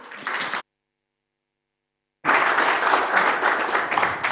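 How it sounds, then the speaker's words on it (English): A conference audience claps to welcome a speaker onto the stage, a short burst at first, then after a gap a sustained, fairly loud round of applause. "Please give big round of applause for Evan talking about Playable Ads."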